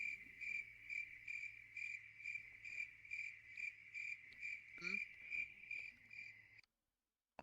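Loud video game crickets chirping in a steady pulsing rhythm, close and continuous, with a brief extra sound partway through before the chirping cuts off.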